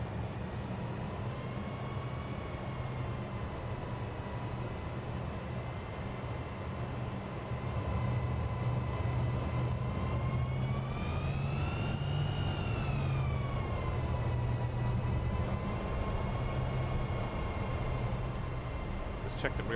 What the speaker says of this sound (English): Let's enjoy the sounds of these engines.